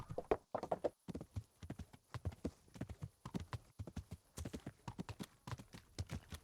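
Horse hooves clip-clop in Kingdom Come: Deliverance, a quick, steady rhythm of sharp hoof strikes at a walking-to-trotting pace, fairly quiet and without talk.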